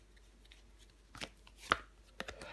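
A tarot card is turned over during a reading, giving a few soft, papery taps and slides, with one sharper flick standing out in a quiet room.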